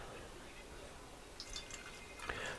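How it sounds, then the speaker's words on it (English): Water is poured into a thick soap mixture for a homemade aphid spray. Soft dripping and splashing trickles in after a quiet start, growing a little fuller toward the end. "Now we will add some water,"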